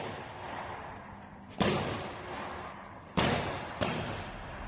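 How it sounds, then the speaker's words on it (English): A boxer throws hooks on a wall bag in a gym, three sharp, loud impacts landing at irregular intervals over steady background noise. "Listen to him throw hooks on the wall bag like a sniper."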